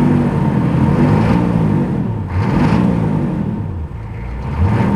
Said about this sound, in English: Let's see if I got any charge here when I rev it up.